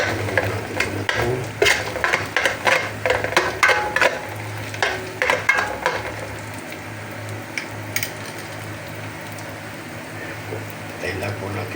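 Garlic frying in a pan for egg fried rice gives a steady sizzle broken by repeated scraping and stirring strokes, with a voice speaking over the cooking.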